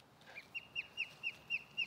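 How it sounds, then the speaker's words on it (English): Birds call on a golf course, giving a faint, evenly spaced run of about six short chirping notes against a quiet outdoor background. "birds are so peaceful"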